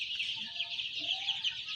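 Sonali, Fayoumi and deshi chickens cluck continuously in an indoor room holding about a thousand birds, a dense, steady chorus of overlapping clucks with no voices.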